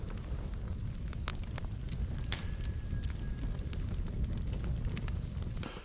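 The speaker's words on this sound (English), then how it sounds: "And I have 2 in the fire here right now." Wooden stumps burning in an outdoor fire to char them for a log cabin post-and-pad foundation, giving a steady low rumble with scattered crackles and pops.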